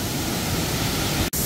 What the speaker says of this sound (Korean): 폭포는 바로 앞에 있습니다